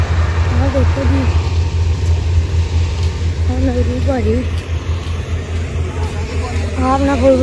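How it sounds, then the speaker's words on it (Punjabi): A four-wheel-drive Arjun tractor engine runs with a steady low idling rumble at a wheat farm during harvest, continuous throughout while someone talks over it. "ਆਪਣਾ four wheeler drive tractor Arjan"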